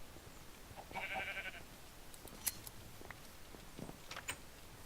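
Sheep bleating in Minecraft: a short wavering bleat near the start, followed by scattered clicks and faint game noises over a quiet background.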